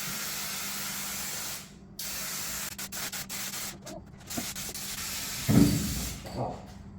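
A Rust-Oleum spray can lays primer onto a Chevy squarebody truck tailgate in short hissing bursts, separated by brief pauses, close to the microphone with faint background noise.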